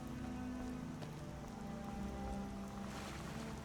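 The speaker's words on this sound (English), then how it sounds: "Is it because it's raining?" Steady rain in the Skyrim video game, a dense continuous patter over a low droning tone, loud and unbroken with no voices.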